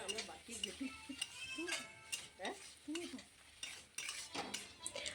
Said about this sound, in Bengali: সামান্য পরিমাণ জল দিয়ে ভালোভাবে সমস্ত মশলা মিশিয়ে নিচ্ছি